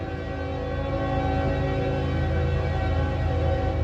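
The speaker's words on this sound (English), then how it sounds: "You guys got to forgive me with the train." A train passes close by with its horn blaring, a loud sustained drone and roar that stays constant throughout, drowning out everything else.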